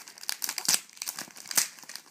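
A foil trading card pack wrapper for Trash Pack cards is torn open by hand, giving a close, loud burst of crinkling and ripping with a couple of sharper tearing snaps.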